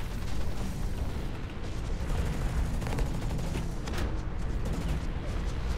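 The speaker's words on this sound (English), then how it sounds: "Who's shooting me from where?" Gunfire in the mech shooter Hawken hits the player's mech, a dense, loud barrage of rapid shots and booming impacts that runs continuously without a break.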